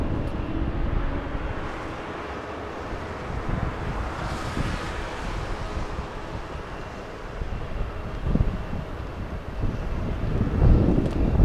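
A jet aircraft spooling up its engines on a taxiway at Los Angeles International Airport, a steady distant roar swelling under gusty wind noise, no voices.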